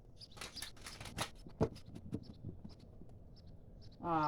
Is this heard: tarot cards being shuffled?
yes